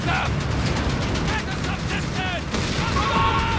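Dense volleys of rifle and machine-gun fire in Company of Heroes 3, an Afrikakorps 2vs2 multiplayer battle, rattling continuously at close range with brief lulls, under shouted unit voice lines and battlefield noise.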